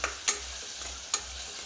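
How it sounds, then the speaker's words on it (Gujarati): Finely chopped onion sautés in a pan for a vegetable dish, giving a continuous soft sizzle with two sharp spoon scrapes as it is stirred. "ડુંગળી પણ એકદમ સરસ સાંતળી લેશું।"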